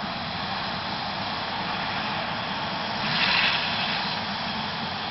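A Conviasa airliner takes off from El Vigía, its engines giving a steady broadband roar that swells slightly past the midpoint, heard at a distance with no talking.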